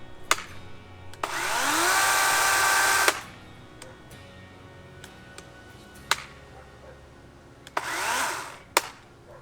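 A DeWalt 20V MAX XR cordless chainsaw revs for about two seconds and then cuts out abruptly when the brake engages. Scattered clicks follow, then a second short burst of motor whine stops just as sharply.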